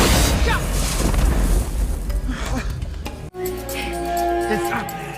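A heavy explosion booms loudly amid gunfire in an action film, its rumbling blast filling the opening seconds before debris and battle noise continue beneath a narrating voice.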